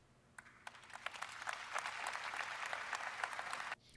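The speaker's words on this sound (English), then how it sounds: "Thunderous applause. Absolutely thunderous applause." Applause from a political rally audience, dense clapping that swells and holds steady for several seconds before cutting off abruptly.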